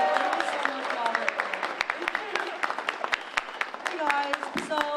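Scattered audience applause at an evening community event, steady patter of hand claps with some louder close claps and voices mixed in underneath.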